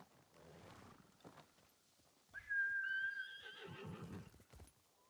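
A horse whinnies in Ghost of Tsushima, a bright drawn-out neigh rising out of soft game ambience and light hoof clatter, loud and close, with no talking.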